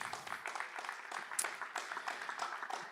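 Faint clapping from a conference audience at a Bitcoin event, a thin scattered patter of hands that carries on evenly throughout, with no voices over it.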